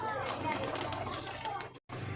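Pigeons coo softly at their coop, low throaty rhythmic calls close by, with people talking over them throughout and a brief dropout near the end.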